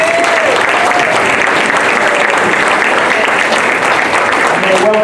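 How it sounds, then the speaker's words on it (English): An audience at a senior games sports awards ceremony claps loudly and steadily in a dense wash of applause, with faint voices and a few scattered calls mixed in. "Please give everybody a round of applause."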